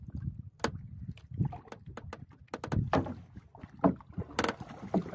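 Small fishing boat out on open water among larger boats, with irregular knocks, thumps and splashy bursts against a quiet, windy background and no speech.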